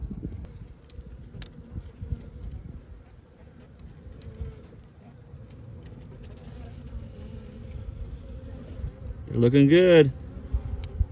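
Honey bees buzz steadily around hive frames, a dense droning hum close by, with a louder burst of buzzing near the end and a person speaking briefly.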